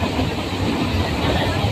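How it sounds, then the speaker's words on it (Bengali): A train arrives at a station near Naihati with a loud, dense, steady rumble, heard close up for a short moment. "আমাদের ট্রেন চলে এসেছে।"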